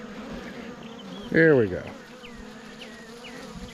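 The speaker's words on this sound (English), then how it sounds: "Yeah, lots of bees." Honeybees buzz continuously around a feeder nearby, individual insects whizzing past now and then, while someone speaks briefly over the drone.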